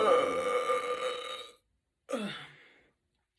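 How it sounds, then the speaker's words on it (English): Two burps during a Japanese food mukbang, a long loud one of about a second and a half, then a pause and a shorter, fading one. "We're getting right out of the bat with a bunch of good burps."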